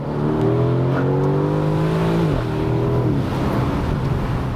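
An Aston Martin DB11 Volante engine revs loudly and close, its tone climbing steadily, then dropping abruptly as if shifting gear before pulling up again, a continuous smooth roar with no talk.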